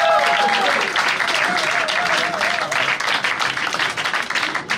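Audience applause at a Paris music showcase concert, a dense, loud wash of clapping filling the whole stretch, with a faint voice or tone briefly audible under it.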